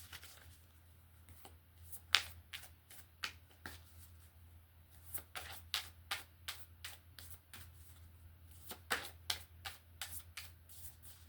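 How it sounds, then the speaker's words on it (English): Oracle cards are shuffled by hand up close, in a quiet room with a low steady hum: repeated soft riffling, flicking and slapping bursts that come in uneven clusters throughout. "We'll get a card out of Moonology to add to it."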